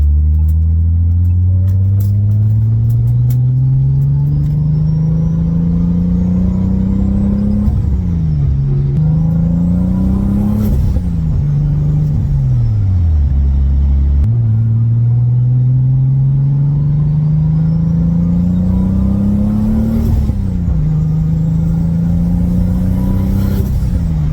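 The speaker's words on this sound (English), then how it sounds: "there's a lot of drone and echo from inside the car, especially with my exhaust and everything" Low, heavy exhaust drone heard from inside a moving Toyota Supra with an aftermarket exhaust and new intercooler setup, rising and falling in pitch as the engine revs through gears, loud and continuous.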